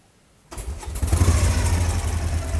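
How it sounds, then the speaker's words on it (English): After a half-second of near quiet, a 1992 Harley-Davidson Sportster cranks and fires, its engine catching into a loud, close, lumpy rumble that keeps running to the end. "so we are riding Manoj's old school Harley Davidson"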